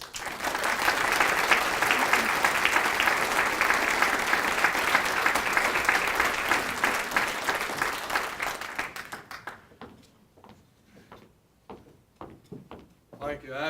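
An audience welcomes a speaker to a talk on the history of North Carolina district court judges with sustained, loud applause that holds steady, then fades out into scattered claps near the end.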